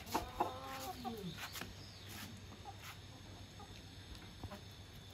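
A few chickens, brought in from outside, cluck softly at a distance: several short calls early on, then sparse low clucks over a faint steady background hum.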